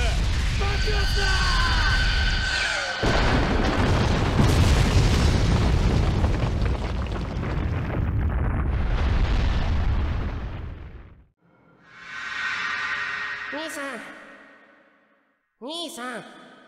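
A long roaring explosion blast in the ninja fighting game Naruto Shippuden Ultimate Ninja Storm 2, rumbling heavily for about ten seconds under a shouting voice, followed by quieter swooshing effects and bright chimes.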